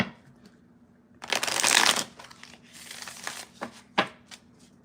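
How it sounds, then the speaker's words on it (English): Tarot cards being shuffled by hand, a loud riffling burst early on followed by several shorter rustles and clicks of the deck, close up with no talking. "I'm going to shuffle these backwards then"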